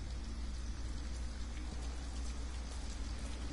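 Steady rain falls continuously in the video game Detroit: Become Human, a dense even hiss of drops pattering on surfaces with no voices.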